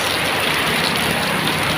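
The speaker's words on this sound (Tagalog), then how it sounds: "ang lakas ng ulan guys" Heavy rain pours steadily without a break, a dense, even hiss that fills the whole stretch close by, with no voices over it.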